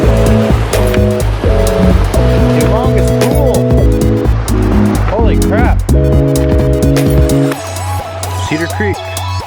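Cedar Creek water on the Ozark Highland Trail, heard at a creek crossing: a steady, loud rush runs for the whole stretch beneath layered sustained tones.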